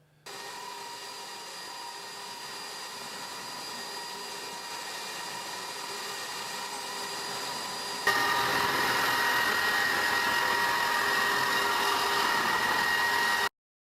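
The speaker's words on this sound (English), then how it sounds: "the big surface grinding machine. This machine is 20 inches wide." A 20-inch-wide surface grinding machine works a concrete floor with a constant loud whining drone that steps up in level and brightness partway through, then cuts off.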